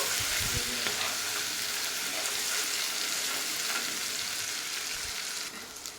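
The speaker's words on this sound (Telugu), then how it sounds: "ఈ ఆయిల్లో మనం అల్లం వెల్లుల్లి పేస్ట్ అనేది కొంచెం వేగేంత వరకు వేగనిద్దాము" Ginger garlic paste fries in hot oil for an Andhra-style gongura mutton, giving a steady, dense sizzle with a few faint stirring knocks and no voices.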